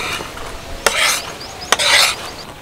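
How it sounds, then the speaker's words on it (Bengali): A spoon scrapes and stirs mango puree through a metal strainer, giving two short sharp scrapes each followed by about a second of close, rasping rub. "ভালোভাবে চামচ দিয়ে এইভাবে নাড়াচাড়া করলে কিন্তু খুব সুন্দরভাবে ছাঁকা হয়ে যাবে।"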